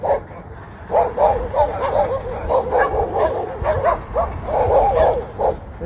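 Guard dogs bark in repeated yapping bursts throughout, fairly close and loud, with some yips mixed in and a voice faintly present underneath.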